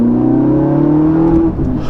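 A Ferrari 458 Italia engine revs hard and loud from close by, holding a strong, high, sustained note for over a second before it briefly drops back.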